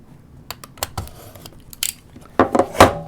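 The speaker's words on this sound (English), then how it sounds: "But first off, let us cut the seal off." A seal being cut off a Sony Xperia XZ1 phone box gives a series of sharp, close snips and clicks, growing denser and louder near the end.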